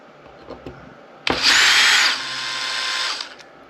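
Power driver whirs in two quick bursts, driving screws into the plastic chassis of an Arrma Big Rock 6S RC truck: a sharp loud spin-up, a brief dip, then a second slightly quieter whir that stops abruptly.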